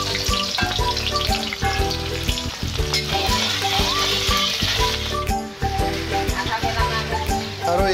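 Pork, not boiled beforehand, tipped into a hot karahi wok and frying with a loud, dense, continuous sizzle that stays steady throughout.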